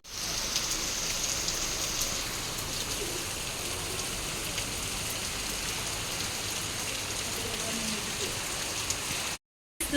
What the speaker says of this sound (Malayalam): നമ്മൾ പോയിട്ട് വന്നപ്പോഴത്തേനും നല്ല മഴയാണ് ഇവിടെ